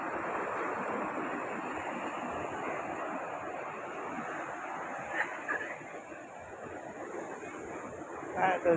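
Sea waves wash steadily onto the beach at Arambol with a constant broad surf roar and wind, a few brief louder splashes near the end, and a short spoken phrase.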